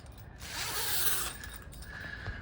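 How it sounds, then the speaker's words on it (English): The zipper on a mesh cat enclosure net is pulled open in one continuous close, raspy zip lasting about a second, followed by light rustling. "this zipper was also from catnets.com.au"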